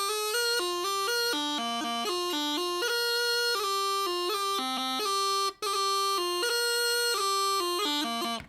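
Highland bagpipe plays the close of a tune's second part, with a steady drone beneath a continuous chanter melody that moves between held high notes and quick ornamented grace notes, loud and unbroken apart from one brief gap.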